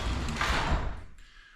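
A garage door rolls down and shuts, a loud rumbling slide ending abruptly with a brief clunk as it closes, leaving a quiet room.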